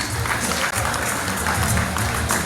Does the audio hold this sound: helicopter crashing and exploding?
no